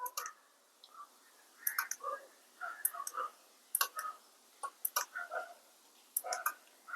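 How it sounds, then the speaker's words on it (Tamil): Faint, sharp clicks from a car remote lock key after its battery change, several short ticks spread irregularly over a few seconds against a quiet background, with soft murmured sounds between them. "relay sound கேட்கு"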